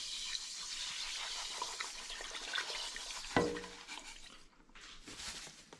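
Sugar is poured into a pot of homemade apple cordial concentrate made from windfall apples, a soft, faint granular hiss with a sudden clunk partway through, then a quieter trickle.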